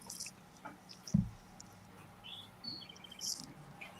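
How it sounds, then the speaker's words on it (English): A bird gives several faint, brief, high chirps and tweets, scattered across a quiet indoor background, with a single soft low thump near the middle. "Bird."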